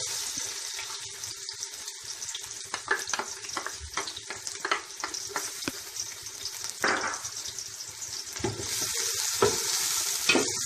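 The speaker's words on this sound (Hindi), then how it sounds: "घी डाल दिए, घी गर्म होने के बाद प्याज डालेंगे" Onions fry in hot ghee in a large pot for beef paya, a steady sizzle punctuated by irregular clattering stirs and scrapes, with a watery gushing swell later on.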